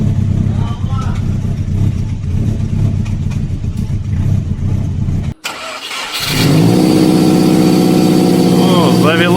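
A Subaru Legacy B4 fitted with an STI engine cranks over after a brief pause and catches, settling into a loud, steady rumbling idle close by. Voices are heard before it starts.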